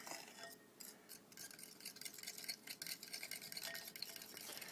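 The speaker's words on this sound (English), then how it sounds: "the bowl's big enough that I can whisk all 4 of those eggs" Four eggs are whisked in a big bowl while preparing Doritos-coated deep fried chicken, with quiet, rapid, rhythmic scraping and clinking strokes that run steadily throughout and no talking.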